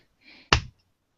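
One sharp hand clap, made to sync a podcast recording, rings out in a quiet room, briefly preceded by a faint rustle and followed by silence.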